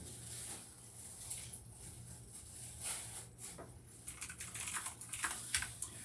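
Rapid, irregular typing on a computer keyboard at a live sports memorabilia card break, the clicks fairly faint and building toward the end over a low steady background hum.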